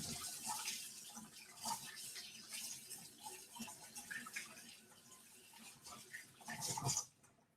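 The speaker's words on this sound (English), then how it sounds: "So I'm just going to quickly wash my hands now." Hands being washed under a running tap at a sink while making pizza dough at home, a steady splashing water flow with uneven bursts, fairly close and continuing alone without talk.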